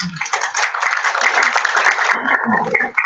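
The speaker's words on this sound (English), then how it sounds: "I think they deserve an applause." At a genealogical society branch meeting, a small audience applauds newly appointed branch executives, dense clapping that fades toward the end as a voice begins talking.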